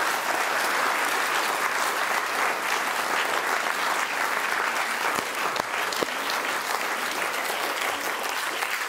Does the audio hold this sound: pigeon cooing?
no